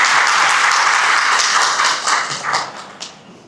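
A large audience at a Burmese business talk claps in a loud, dense burst that holds steady before thinning and fading out over the final second, with no talk over it.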